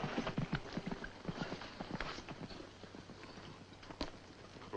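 Horses walk at a steady pace in a western cavalry scene, their hooves making a continuous clip-clop close by, with light rustling and no talking.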